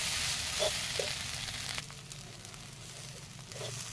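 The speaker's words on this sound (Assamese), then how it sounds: "একেবাৰে শুকান হৈ নোযোৱালৈকে ঢেকীয়াখিনি ভাজি থাকিম" Fiddlehead ferns and peanuts dry-frying in a pan sizzle and crackle nearby, loud at first, then easing into a quieter hiss with occasional stirring scrapes.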